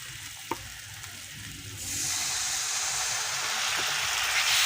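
Egg curry masala is stirred and fried in a pan: a quiet sizzle with a faint stir, then a sudden loud, sustained hiss that swells and holds.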